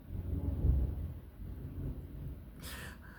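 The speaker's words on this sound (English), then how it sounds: "Thunder." Low rolling thunder rumbles and swells in the first second, then fades into a steady low murmur, heard alone with no talk during a moment of reflection outdoors.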